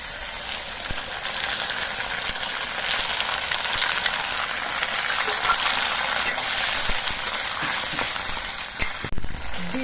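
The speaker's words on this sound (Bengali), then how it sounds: "আলুগুলো বেশ লালচে রং ধরিয়ে ভেজে নিয়েছি এবার এর মধ্যে দিয়ে দিচ্ছি বেটে নেওয়া মশলাটা" Ground spice paste frying in hot oil with potatoes already browned red, for a taro (maan kochu) dish; a steady close sizzle and crackle runs throughout with light stirring noises and no talk.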